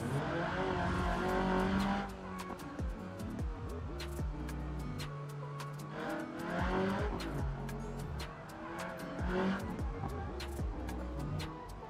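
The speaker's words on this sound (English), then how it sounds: "That was a terrible handbrake pull." Tires skid and screech as a car's handbrake is yanked in BeamNG's Italian city setting, with an engine droning steadily throughout and sharp clicks and bursts punctuating the slide.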